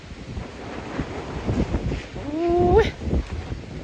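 Strong wind gusts roar across an outdoor microphone near an olive tree orchard, a steady broadband rush with rising and falling surges throughout, and a brief tonal whine near the end.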